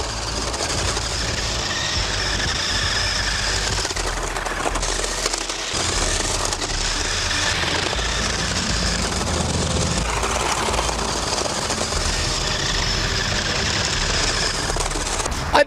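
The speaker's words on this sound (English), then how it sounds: "So let's set this camera up and try to get some cool shots of drifting around here." Small RC car with turbo driving and drifting, its steady high-pitched motor whine holding loud and continuous throughout, with slight surges and dips as it slides around.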